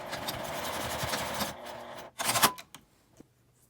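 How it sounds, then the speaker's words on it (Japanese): A sewing machine stitching the end of a zipper to fabric, sewing a short 1 cm seam for a zippered toilet paper holder. A steady, close mechanical whir runs for about a second and a half, then a brief second burst follows before quiet. "端を1センチ縫います"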